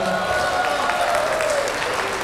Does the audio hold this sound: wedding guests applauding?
yes